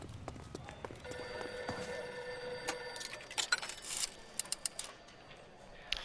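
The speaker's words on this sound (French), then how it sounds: "Téléphone." An old-fashioned telephone bell rings in the 1940s Los Angeles detective game L.A. Noire, a series of bright metallic rings over a busy background with clip-clop horse hooves and faint street noise.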